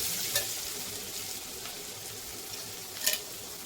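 Chopped onions sizzle steadily in a pan with green chili and a pinch of hing, a soft continuous hiss with two brief sharper crackles from stirring, no voices.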